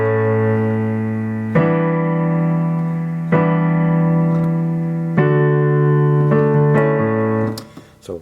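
Piano chords of the verse of a song, with three main chords and one played twice: five sustained chords struck one after another, each ringing out loud and clear with no voice over them, ending in a brief fading tail.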